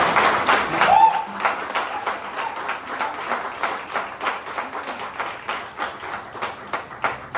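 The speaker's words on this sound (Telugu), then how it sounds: "వీళ్ళందరికీ వన్స్ అగైన్ మీరు గట్టి క్లాప్ చేయాలి" An audience at an office gathering gives a round of applause, strongest at the start and then settling into a steady, moderately loud patter of claps that continues to the end.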